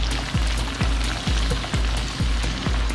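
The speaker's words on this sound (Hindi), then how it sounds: "अब बाकी पीस है उनको भी हम उसी तरह फ्राई कर लेंगे।" Fish pieces fry in hot oil for a restaurant-style fish karahi with a steady close sizzle, while a regular low thump repeats about every half second beneath it.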